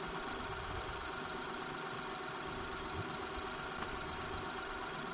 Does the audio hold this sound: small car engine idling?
yes